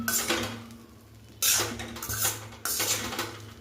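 Tomato rice is stirred in a pan with a spoon, producing a few distinct clinks and scrapes of metal on cookware at a quiet level, with no talking.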